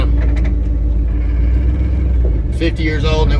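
A 50-year-old farm truck drives with its engine running, a loud, steady low rumble throughout, with someone talking over it and a brief higher rattle near the end.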